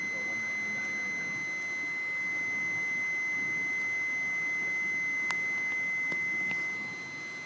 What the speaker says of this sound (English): You can leave that beep on if you want, Mark